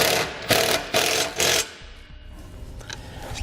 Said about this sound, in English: We're going to use an 18mm wrench to hold the side where the nut is, and an 18mm socket to tighten down the bolt.